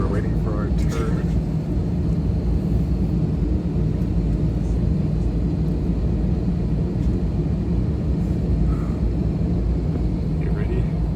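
A Frontier Airlines airplane taxiing before takeoff, heard from inside the cabin as a steady, loud engine rumble and hum that fills the whole stretch, with people talking over it.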